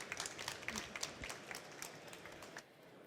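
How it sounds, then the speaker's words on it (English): Scattered, fairly faint audience clapping at an industry conference session as a presenter is welcomed on stage, a few distinct claps tapering off after a couple of seconds. "A big round of applause, please."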